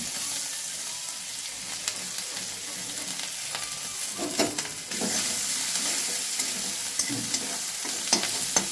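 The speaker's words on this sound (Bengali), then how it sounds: "রসুন ফোড়ন দেবো, আদা ফোড়ন দেবো" Hot oil sizzles steadily as garlic and ginger fry, with occasional stirring scrapes, the frying hiss jumping louder partway through as more goes into the pan.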